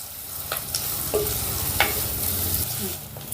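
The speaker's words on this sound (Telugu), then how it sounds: "ఈ ఉల్లిపాయల్ని ఒక 2 నిమిషాలు ఫ్రై చేసుకుందాం." Long-sliced onions frying in hot oil for an egg curry, a loud close continuous sizzle with occasional scraping of a stirring utensil in the pan.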